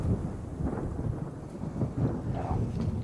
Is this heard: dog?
no